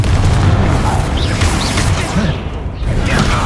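A Confringo spell explosion in Hogwarts Legacy, heard as a loud, continuous rumbling boom of blasts and crackling debris with swirling magical whooshes, dense and sustained throughout.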